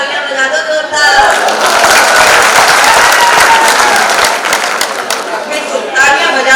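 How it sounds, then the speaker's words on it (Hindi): An audience at a Hindi comedy poetry show, a hasya kavi sammelan, breaks into loud, dense applause that builds quickly and holds steady, with a few voices chattering underneath before it thins out. "एक बार तालियां बजा दो जोरदार"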